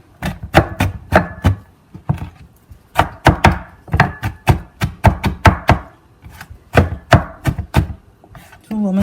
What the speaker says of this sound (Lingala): nazokata ba poivron rouge na kata yango mike